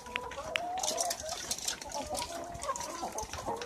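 Laying hens, a flock of about 300 older birds over a year old, cluck and squawk continuously in the coop at afternoon feeding, a dense near chorus with scattered sharper calls.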